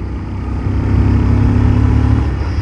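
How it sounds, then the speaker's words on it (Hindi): A 2023 Bajaj Pulsar 125 fi BS7 E20 motorcycle with its DTSi removed, heard while riding: a loud, steady, deep exhaust drone that swells slightly in the middle and holds on throughout. "फुल बेस एग्जॉस्ट नोट दे रही है बाइक"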